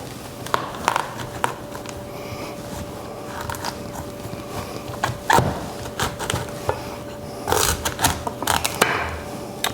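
A knife saws and cracks through a tough spaghetti squash, halving it for wood-fired cooking, with scattered sharp thunks and crunching cuts spread unevenly over several seconds, close by and with no talk.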